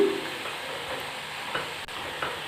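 Chakodilu, a Telugu snack, frying in hot oil until brown: a steady close sizzle with light stirring scrapes and clicks, no voices.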